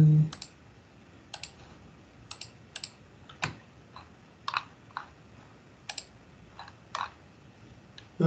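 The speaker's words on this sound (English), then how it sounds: "click the next tab now" Sharp computer mouse clicks during an online EIDL loan application, a dozen or so separate taps spaced irregularly over a quiet room, close and crisp with no talking.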